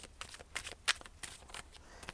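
Tarot cards are shuffled by hand in a series of soft riffling swishes and brisk flicks, close and irregular with no talk.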